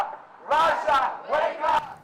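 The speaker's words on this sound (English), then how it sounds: "Hundreds also here in Toronto chanting slogans and waving Ukrainian flags." Protest crowd in Toronto waving Ukrainian flags and chanting slogans, rhythmic shouted bursts in two-part phrases repeating twice, loud and close.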